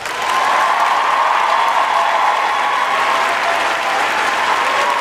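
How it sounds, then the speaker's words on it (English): Loud, dense audience applause from a large crowd following a speech, continuous and even throughout with a faint background tone and no speech. "And then the applause."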